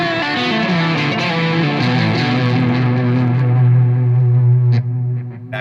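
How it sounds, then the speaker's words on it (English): Electric guitar through an amp with overdrive and a delay effect, sustained distorted notes and chords ringing on continuously with echoing repeats blending into a thick, loud wash that fades slightly at the end. "There's a really great blend in distortion and overdrive and gain between the original signal and the delay"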